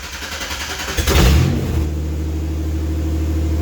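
A Baja car's engine fires up and revs in a garage, with a loud burst of cranking and revving followed by a steady idle hum.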